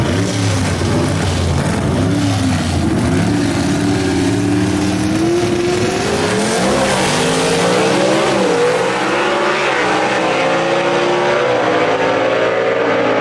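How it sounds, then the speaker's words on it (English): 1962 Chevy II wagon gasser drag car with a Gene Fulton race engine at Shadyside Dragway: a loud, sustained high-revving engine roar with rising and falling pitch as it accelerates down the strip, fading slightly toward the end. "helping Jaron Purdue out in the stud muffin, that 62 Chevy 2 wagon that occupies the quick time performance lane."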